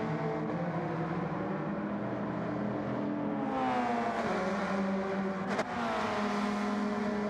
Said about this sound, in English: this car is the D4 Death Ray